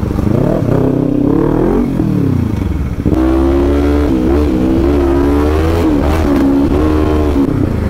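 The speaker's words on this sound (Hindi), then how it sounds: "Super bike is very powerful Ninja." A powerful Kawasaki Ninja superbike engine revs up and down close by, its tone rising and falling in several loud bursts with a rough mechanical edge.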